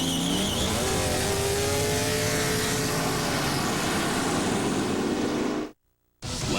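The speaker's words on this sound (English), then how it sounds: "He's driving the 670 horsepower Budweiser Thunderbird." A 670 horsepower Budweiser Thunderbird NASCAR race car engine roars loud and close, holding a strained high-revving note for several seconds before cutting out abruptly, then resuming briefly.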